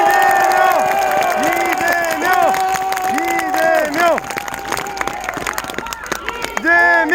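A large crowd claps and cheers at Lee Jae-myung's presidential campaign rally in Iksan. The clapping and shouting are loud and run without a break for about seven seconds, with strong voiced, chant-like tones over the applause.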